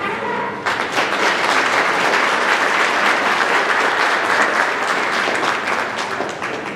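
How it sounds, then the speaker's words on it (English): A banquet crowd at a small-town chamber of commerce applauds its board of directors, the clapping bursting in suddenly and staying loud and dense before tapering slightly at the end. "Let's give our board of directors a round of applause."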